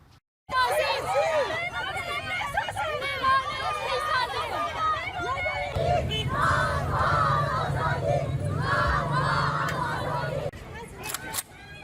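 A crowd of women protesters in Kabul chants together for work, bread and freedom, loud rhythmic massed voices with shouting that grows denser midway, then a few sharp clicks at the end.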